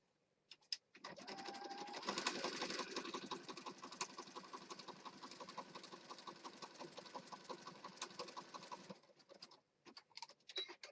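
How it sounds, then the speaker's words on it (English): A sewing machine stitches paper pieces down along their edges on a Christmas junk journal page. After a brief start, it hums continuously in a fast, even rattle for about eight seconds, then stops, followed by a few small clicks and handling noises. "now what I'm going to do is just kind of go around and sew down these pieces to the edges"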